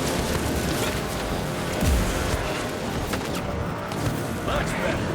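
Gunfire in the Evil West video game, heard as several booming shots and impacts inside a dense, busy game soundtrack.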